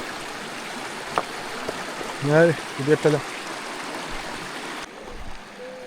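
A mountain stream flowing over rocks, a steady broadband rush close by, with someone speaking briefly over it partway through.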